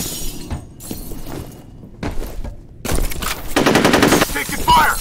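Bursts of rapid automatic gunfire and single shots crack in the video game F.E.A.R., with thuds and shattering debris, separated by quieter gaps and growing heavier toward the end, alongside short radio-style voice callouts.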